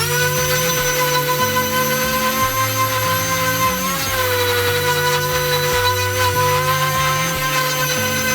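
A power tool whines steadily and loudly while flush trimming and sanding glued-in wood dowels on a wall-hanging wine rack, a continuous high motor drone with shifting lower tones.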